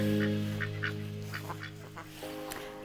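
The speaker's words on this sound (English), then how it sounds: "The white Pekin is the most popular breed of duck." A white Pekin duck honks and quacks in a short series of loud, nasal calls, several in quick succession over a steady low hum.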